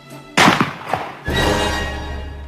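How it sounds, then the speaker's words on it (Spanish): A third shot in a dramatized scene of Rasputin's killing by Prince Yusupov lands as a sharp heavy thump, followed by a dull impact and a lingering low rumble. "Un tercer disparo."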